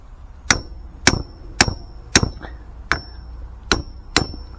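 Eight sharp hammer strikes on a metal bird feeder pole ring out at a steady pace, each a bright clanging hit with a brief metallic ring, close and loud.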